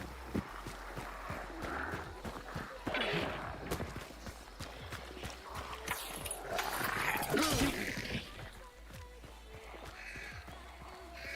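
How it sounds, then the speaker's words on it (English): Horse hooves clip-clopping in the survival video game Dune: Awakening, a rhythmic run of hoofbeats at moderate distance over ambient game noise, rising and fading. "But I know that I heard a horse."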